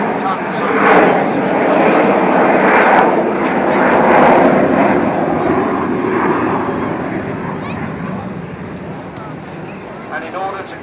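Avro Vulcan XH558 delta-wing bomber passing at a Clacton airshow, a loud broad jet roar that swells then slowly fades, with a commentator talking over it throughout.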